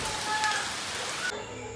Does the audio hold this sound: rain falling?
yes